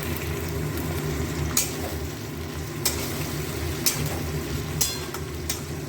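Tomatoes fry in a pan for a cabbage curry, giving a steady broadband sizzle over a low hum, with a few sharp scrapes and clicks as the pieces are stirred.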